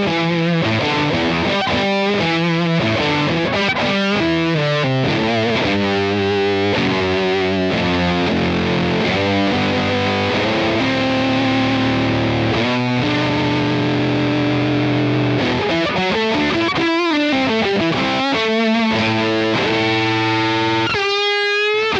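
An electric guitar runs through a distortion pedal and a phaser effect, playing loud, sustained, heavily saturated chords and riffs continuously with no talking.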